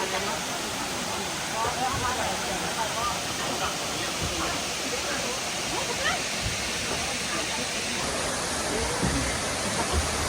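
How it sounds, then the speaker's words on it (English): A large waterfall in Laos roars as a continuous broad rushing wash of falling water, loud and steady, with people talking over it at times. "This might be the best waterfall we've seen our entire time in Southeast Asia."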